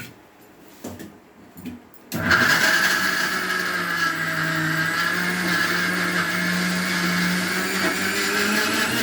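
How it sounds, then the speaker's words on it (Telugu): A kitchen mixer grinder starts after a couple of soft knocks and then runs loud and steady with a high whirring drone, grinding a mixture to a smooth paste. "ఇప్పుడు మిక్సీ వేస్తున్నానండి"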